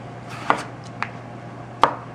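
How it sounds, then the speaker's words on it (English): A knife slices through a peeled russet potato on a cutting board in three crisp, separate cuts, close and distinct against a quiet kitchen hum. "What I'm going to do is cut it in slices."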